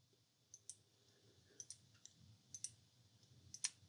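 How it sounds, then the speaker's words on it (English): Trigger switch of a Daystate Pulsar air rifle being rebuilt, clicking faintly several times in a quiet room, small sharp clicks spaced unevenly over a few seconds with no talk. "we can test that the trigger switch is working by listening for the click."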